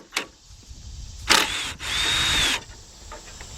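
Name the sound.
power tool removing a 10mm bolt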